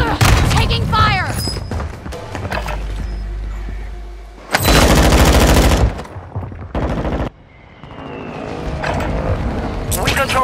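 Loud automatic gunfire in a Modern Warfare 2 match, several heavy bursts with booms and mechanical clatter, close and intense, with voices talking between them.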